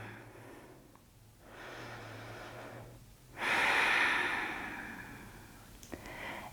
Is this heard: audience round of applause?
no